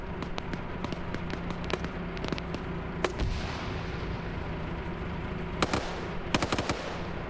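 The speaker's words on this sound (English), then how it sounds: "King getting shot at by the dish gun. He evades the shots." Scattered gunshots from a dish gun in a Friday Night Fights match, short sharp cracks popping at irregular intervals over a steady background din, with a tight cluster of shots near the end.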